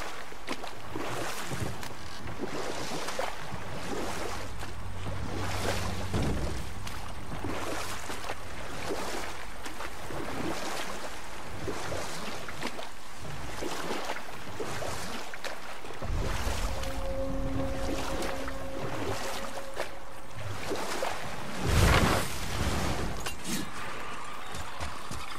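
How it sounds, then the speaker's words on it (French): Boat moving over water in the God of War video game, steady wash and lapping with wind noise, continuous and moderate, with occasional creaks and a brief louder splash near the end. "Retournons au bateau."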